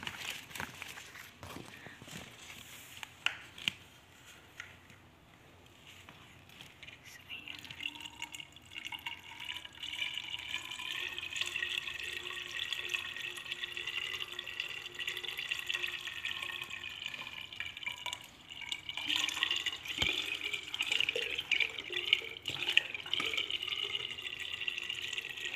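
Plants being watered in Saudi Arabia: a faint, continuous hiss of running water that grows steadier and slightly louder toward the end, with scattered small knocks and drips.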